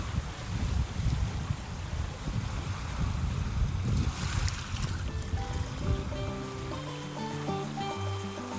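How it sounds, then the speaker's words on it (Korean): Steady rush of sea waves surging and washing over rocks at Seuldo, Bangeo-dong, Ulsan, South Korea, mixed with gusty wind; near the end some tonal notes drift in over the surf. "동구 방어동 슬도의 파도 소리였습니다"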